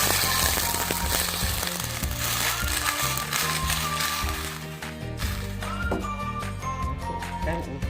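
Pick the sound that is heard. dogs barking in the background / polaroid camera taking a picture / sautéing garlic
sautéing garlic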